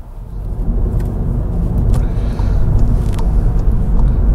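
A 2015 VW MK7 GTI with the 2.0 engine drives on the road, giving a low, steady exhaust growl and rumble that builds slightly. It sounds close, heard from inside the car, with no talk.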